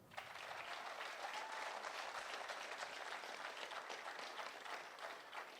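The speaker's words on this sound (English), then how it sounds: "so round of applause for the Guards, lads" A crowd applauds the Garda College rugby team at the Brendan Johnston Cup final presentation, a soft, continuous patter of clapping heard from some distance and sustained throughout.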